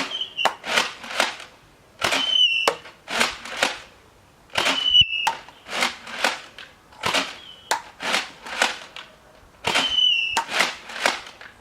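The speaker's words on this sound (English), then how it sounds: "So I'm going to load a couple of these darts up and fire them back towards you." Nerf Mega Centerion blaster firing darts outdoors: a rapid string of sharp, close mechanical pops and clacks, roughly a dozen shots in uneven bursts with short pauses between, each with a brief priming rattle.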